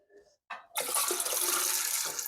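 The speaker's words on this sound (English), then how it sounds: "I add water." Water pours into a cooking pot on a kitchen stove, a brief faint trickle and then a steady, fairly loud rushing stream that runs for a couple of seconds.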